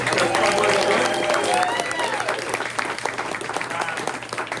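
Dense, steady applause from a luncheon audience greeting high school CIF sports champions, loud and continuous from start to finish, with a few voices and whoops mixed into the clapping.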